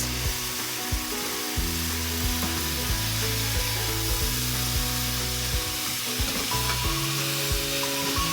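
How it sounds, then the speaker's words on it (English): Apples and brown sugar stirred in a hot pan, a steady sizzle and frying hiss with regular scraping strokes of the spoon, close and continuous, no voices. "we're gonna mix that up and then add the rest of our ingredients"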